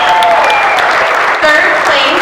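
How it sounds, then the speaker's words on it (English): Audience applauds second-place winners at a cannabis edibles awards ceremony, steady loud clapping filling the space from start to finish without a break. "just give a round of applause"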